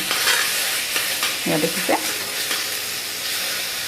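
Chickpeas and potatoes fry in a pan for chickpea curry, a steady close hiss and sizzle with stirring scrapes, while a voice talks briefly partway through.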